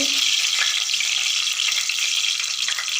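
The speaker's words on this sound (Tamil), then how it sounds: "வெந்தயம் கடுகு நல்லா பொரிஞ்சதுக்கப்புறமா" Mustard seeds, fenugreek and curry leaves spluttering in hot oil for a fish curry, a dense, steady hiss and crackle of frying that carries on without pause, close and loud, with no voices over it.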